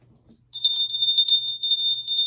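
A small bell, rung by a bell pull, gives a rapid ringing trill that starts after a brief faint rustle. It keeps jangling steadily and fairly close, with a short pause partway through.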